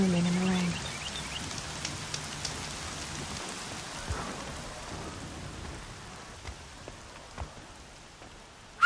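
Continuous rainfall in Horizon Zero Dawn, a soft even wash of drops with scattered faint taps and a low distant rumble underneath.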